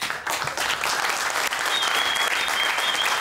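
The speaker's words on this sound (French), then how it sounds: "Koulibaly Système, on l'applaudit bien fort." Loud, sustained applause from a large audience at a comedy show, steady clapping filling the whole stretch without a break.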